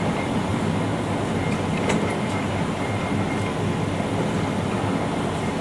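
A Monarch NN5 heavy-duty 62 by 204 inch lathe with its carriage traversing, giving a steady, loud mechanical rumble and grinding hum that holds unchanged throughout, with a few faint clicks.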